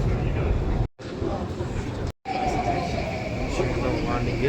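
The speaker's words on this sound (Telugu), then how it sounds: "మెట్రో ఎక్కి చూద్దాం." A Singapore metro train at a station, a steady rumble and rolling hum with a rising electric whine as it moves off, broken by two brief silent gaps, with people talking nearby.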